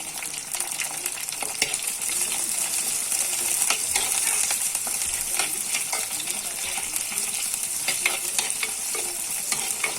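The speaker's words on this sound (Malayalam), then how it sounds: "നന്നായിട്ട് ഇളക്കി കൊടുക്കാം." Curry leaves and green chilies fry in a pan for a Kuttanad-style backwater prawn curry, a continuous crackling sizzle with metallic stirring clinks, close and steady throughout.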